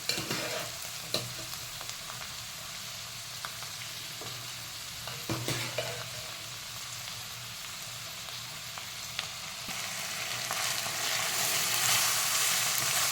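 Boiled carrots, green beans and peas being stir-fried in a pan with softened onion for veg pulao, a steady close sizzle with scraping stirs throughout, growing a little louder toward the end.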